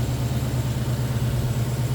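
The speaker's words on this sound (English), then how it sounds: "you're gonna hear the compressor turn on once you start doing that. The compressor is gonna engage" A car's air conditioning compressor running while freon is added, a steady low engine-like hum and drone close by, continuous and even with no voices.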